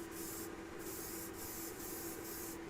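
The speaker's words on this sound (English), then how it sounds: "You just go slow with your airbrush." Airbrush spraying Vallejo black primer in thin coats, a steady faint hiss of air and paint in short repeated bursts with brief pauses, with nobody talking.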